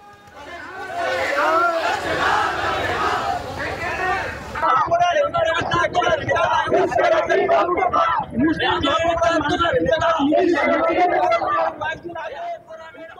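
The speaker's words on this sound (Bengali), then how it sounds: "সেখানে বুকে কালো ব্যাচ পরে স্লোগান দিতে শোনা যায় তাদের" A crowd at a protest rally in Bhangar, people wearing black badges and holding placards, chanting slogans together in loud, rhythmic, sustained bursts, with a dense babble of many voices running throughout.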